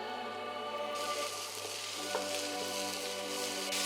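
Steady loud sizzling from a hot pan of oil, with a burst of crackling as washed mudakathan (balloon vine) greens are added and stirred about a second in.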